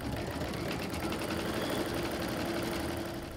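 An embroidery machine stitches a design onto a can or bottle cozy with a fast, steady mechanical chatter, close and continuous throughout.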